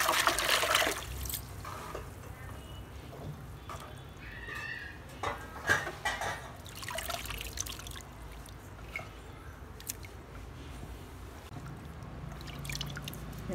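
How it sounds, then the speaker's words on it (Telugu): Mint leaves swished and rinsed by hand in a bowl of water, producing irregular close sloshing, dripping and trickling splashes with a few sharper drips, continuous with no talking. "ఇలా జాడిచి కడుక్కోవాలండి"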